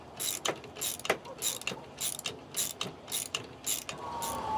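A homemade fishing reel spins with a rapid ratcheting click, coming in about eight short bursts of clicking, close and fairly quiet.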